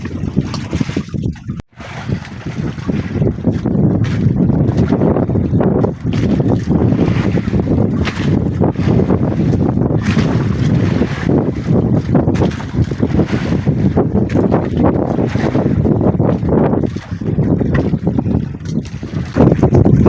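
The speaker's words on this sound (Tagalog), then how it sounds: "Nagbalik yung malakas na hangin." Strong wind roars across a boat at sea, a loud, continuous buffeting rush with microphone wind noise and water sounds, sustained throughout without talk.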